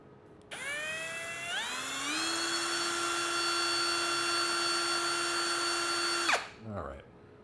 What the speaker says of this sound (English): I'm just going to pre-drill for the self-tapping screws.